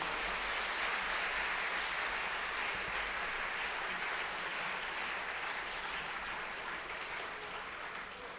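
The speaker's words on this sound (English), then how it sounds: "I think we could give a louder round of applause, please" An audience applauds at a Christian gathering in West Bengal after a speech, a steady, dense wash of clapping that stays even and sustained throughout without voices over it.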